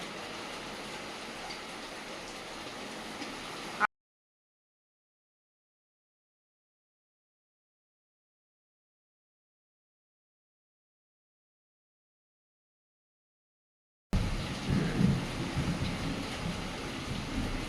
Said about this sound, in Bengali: এত বৃষ্টিটা এত জোরে এসছে ঘরের মধ্যে জল ঢুকে যাচ্ছে